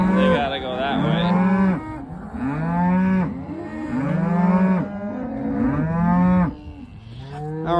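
Cattle mooing repeatedly and loudly while cows and calves are sorted into separate groups on a farm, several overlapping moos, some long and drawn out, carrying on with almost no pause.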